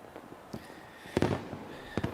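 New Year's Eve fireworks in New York City burst in a few sharp cracks, with a bigger crackling cluster midway and another bang near the end, over a low murmur of noise.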